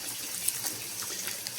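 About 500 ml of water runs into a blender in a brief, steady, faint hiss of pouring liquid, heard alone and close.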